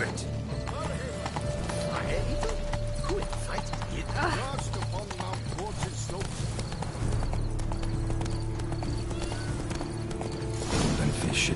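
Horse hooves clip-clop steadily through the Witcher 3 video game, a rhythmic trot heard under someone talking and game music.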